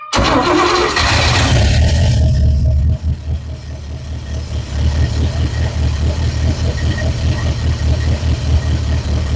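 A 1958 GMC Napco 4x4 truck's engine cranks and fires, roaring loudly at first, then settling into a rough, rhythmic idle that chugs on steadily close to the listener.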